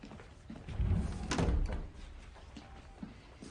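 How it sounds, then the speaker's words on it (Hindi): A door is pushed shut in a dramatic scene, giving one dull, heavy thud with a short rattle that lingers for about a second before fading into quiet room tone. "दरवाजा बंद करो।"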